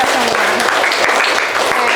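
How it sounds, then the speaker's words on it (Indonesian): Classroom of students clapping together during a lesson, a loud, close, rhythmic run of claps with a voice briefly audible over it. "Tepuk tangan untuk kita semua."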